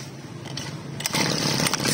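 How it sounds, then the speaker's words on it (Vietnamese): Japanese Misu TL261 brush cutter two-stroke engine pull-started, a brief rattle of the starter followed by the small engine catching and buzzing steadily. "Thấy không, máy móc còn chuẩn là gam ti cực kỳ êm nha, không kêu không kiết gì hết, chạy cực kỳ phao."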